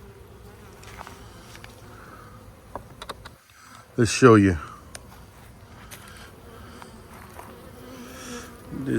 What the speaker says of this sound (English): There's bees there